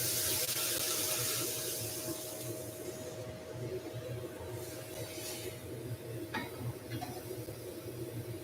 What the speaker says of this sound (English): Let's rinse out this pan.